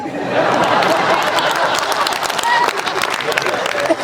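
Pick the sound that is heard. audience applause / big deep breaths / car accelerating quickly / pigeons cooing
audience applause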